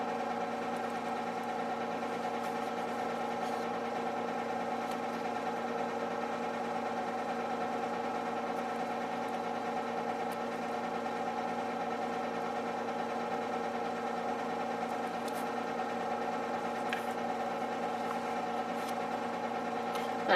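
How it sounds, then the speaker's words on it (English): Loud, steady mechanical drone of a washing machine running at night, a continuous hum with layered tones and faint rhythmic rattling, unbroken for the whole stretch with no talk. "That washing machine is extra loud tonight."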